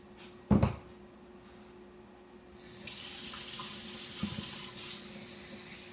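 Kitchen tap water runs over cooked ground beef in a strainer to rinse off grease, a steady broadband rush that swells after a brief clatter near the start and continues alone.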